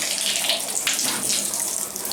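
Water from a shower faucet gushes steadily while a clogged shower valve is being back flushed, a close, loud, continuous hiss with no pauses.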